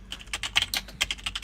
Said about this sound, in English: are you typing it out or am I?